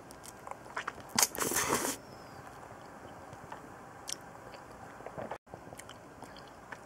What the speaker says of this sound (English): I'm chewing on it.